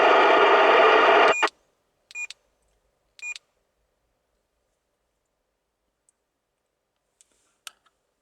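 A CRT Mike 2.5 CB radio microphone emits a loud steady tone that cuts off, then two short beep bursts about a second apart, followed by faint scattered clicks in near silence.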